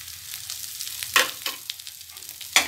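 Ginger garlic paste frying in a pan for a creamy paneer gravy, a steady soft sizzle with a few louder bursts of stirring scrapes.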